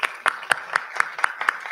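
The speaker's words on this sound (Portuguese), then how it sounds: "mais uma salva de palmas" Applause for panel guests at a corporate talk, heard as sparse, evenly spaced claps at roughly a quarter-second beat, fairly faint and thin rather than a full crowd.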